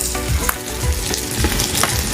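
Dried red chillies fry in hot oil for a Tamil thalakari goat-head curry, giving a steady close sizzle with small crackling pops and a few stirring scrapes, with no voices.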